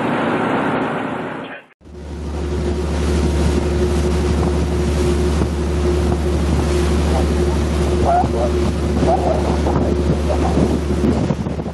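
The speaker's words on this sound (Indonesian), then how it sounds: "Kapal melaju menuju daerah penangkapan ikan." A purse seine fishing boat cruising at sea off Malta, its steady low engine drone running throughout with rushing wind and water noise, after a brief cut near the start.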